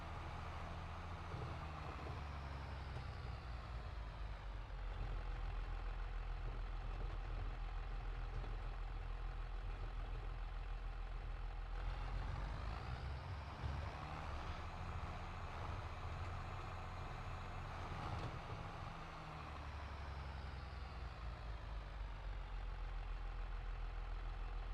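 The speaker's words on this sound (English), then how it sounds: "you hear the engine relax when you're headed down the hills" Tractor engine in Farming Simulator 22 idles and drones at low volume, a steady low rumble that eases and swells slightly over time, with no talking.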